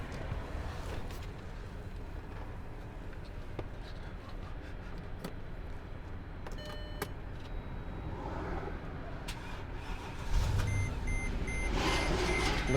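A car engine cranks and catches about ten seconds in, its low rumble swelling over a steady background hum and a few faint beeps, then idling on at a higher level.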